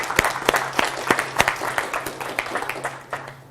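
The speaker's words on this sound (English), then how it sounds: "please welcome her and give her a round of applause before I give her bio" A small audience claps to welcome Dr. Pamela Peeke, with distinct individual claps at a fairly regular rhythm, loudest at first and gradually thinning out over a few seconds.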